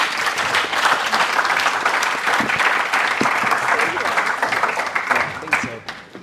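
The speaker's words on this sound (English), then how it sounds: "can I just get a huge round of applause for our judges?" An audience at a pitch competition grand final applauds the judges: dense, sustained clapping from a large crowd, loud and even, tapering off at the very end, with some voices mixed in beneath it.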